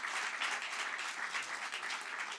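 Audience applause fills a gala awards program, a steady, dense wash of clapping from a large crowd with no voices over it, holding at an even level throughout.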